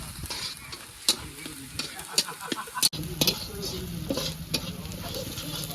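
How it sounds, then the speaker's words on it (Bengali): Onions frying in a pan for a home-style country chicken curry sizzle and crackle continuously, with sharp stirring clacks and scrapes scattered throughout, close and fairly loud, with faint voices in the background. "কতক্ষণ ধরে এরভাবে ভাজে পেঁয়াজটা?"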